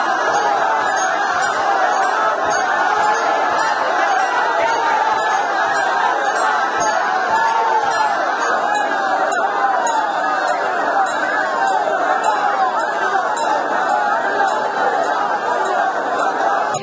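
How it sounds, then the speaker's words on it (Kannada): Devotees at the Bangalore Karaga festival raise a loud, continuous roar of crowd chatter and cheering that stays dense and unbroken throughout, with occasional clinks in the mix. "ಭಕ್ತರ ಹರ್ಷೋದ್ಗಾರ ಮುಗಿಲು ಮುಟ್ಟಿತ್ತು"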